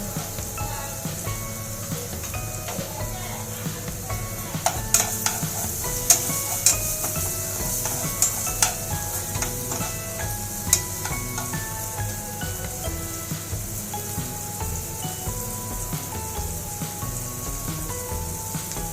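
Chopped tomato and onion frying steadily in a pan, a continuous soft sizzle with occasional stirring clicks and scrapes, close and even throughout.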